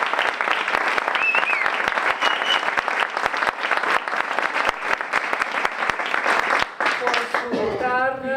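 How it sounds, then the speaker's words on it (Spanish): An audience at a children's literature gathering gives a guitarist a big round of applause: dense, continuous clapping that tapers off in the last seconds as voices come through. "Por Dios, otro aplauso enorme para el maestro."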